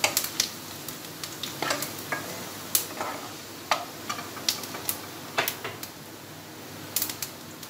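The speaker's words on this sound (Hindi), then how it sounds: "आधा चम्मच कलौंजी डालेंगे, एक चम्मच सौंफ डालेंगे, इनको रोस्ट करेंगे।" Nigella and fennel seeds dry-roasting in a pan for bitter gourd curry, giving a soft, low sizzle punctuated by sharp spoon clicks and scrapes against the metal as they are stirred.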